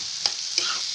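Egg chana being stirred in a pan over the gas, two soft spoon scrapes over a steady low sizzle, no voices.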